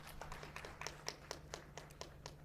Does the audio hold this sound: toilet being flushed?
no